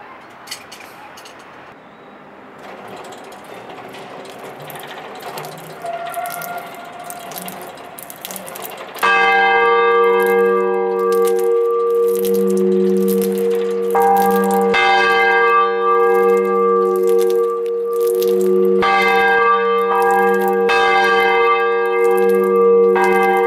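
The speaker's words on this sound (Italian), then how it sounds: "Procediamo al test delle quattro campane a distesa." Four church bells from a 1969 Marinelli set at Sant'Antonio in Perugia swing in full peal, loud and ringing with rich overlapping strokes after a quieter, muffled opening stretch.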